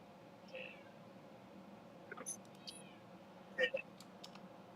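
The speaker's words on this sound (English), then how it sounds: "I hear kitty cat." A house cat gives a few faint, short meows in a quiet indoor room, with soft clicks and rustles scattered around them and no talking.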